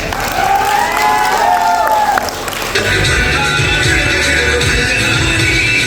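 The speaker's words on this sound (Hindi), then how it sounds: "जोरदार तालियां।" Loud applause and cheering from a crowd at a Safe Shop business talk, a thick roar of clapping and voices with a brief tonal sound early on that shifts to broader crowd noise midway.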